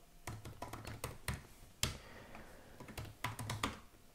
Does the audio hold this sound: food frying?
no